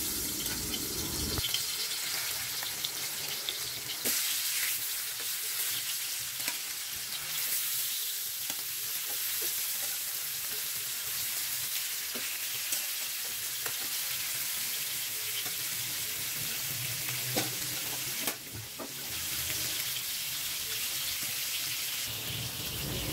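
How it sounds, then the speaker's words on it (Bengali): Fish fries in a pan on a home kitchen stove, a loud, continuous hissing sizzle that fills the whole stretch, with faint clinks and bursts of running water from a tap, and no one speaking. "এক চুলায় মাছ ভাজি বসিয়ে দিয়েছি"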